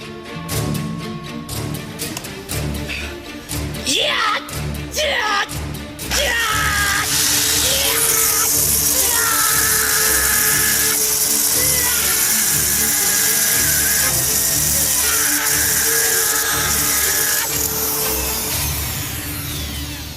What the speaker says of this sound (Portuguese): Ele vai pressionar uma furadeira elétrica contra seu próprio corpo.